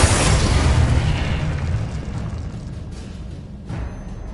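A Confringo fire spell explodes in the video game Hogwarts Legacy, a loud broad boom that opens the clip and rumbles away over a few seconds, with no voices over it.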